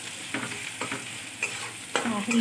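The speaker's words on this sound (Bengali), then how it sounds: "শুধু চিংড়ি মাছটা পেঁয়াজটা মিশিয়ে দিচ্ছি" Prawns and onions are tossed together in a hot frying pan, giving a close sizzle with a few scraping stirs of a spoon against the metal, short and quiet, with no voices.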